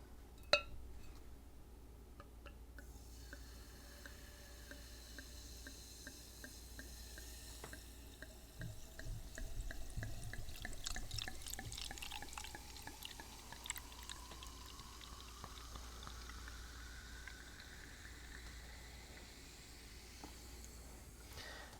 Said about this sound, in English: You gotta do a slow pour with the champagne.